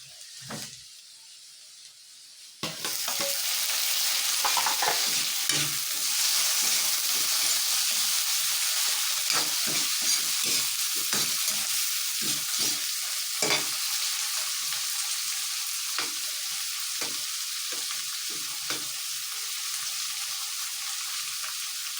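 Tomatoes sizzle in a hot pan while being sautéed for mung bean stew. A quiet start gives way to loud, steady frying hiss, broken by repeated scraping and stirring sounds.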